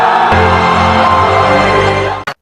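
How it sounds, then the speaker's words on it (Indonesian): A stadium audience applauds and cheers the Indian team, a loud, dense, continuous roar of clapping that cuts off abruptly near the end. "semua penonton memberikan tepuk tangan kepada tim India."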